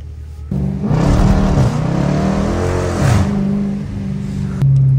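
A Dodge Challenger R/T engine revs loudly and steadily, its pitch climbing and falling in a couple of surges before settling into a lower idle near the end.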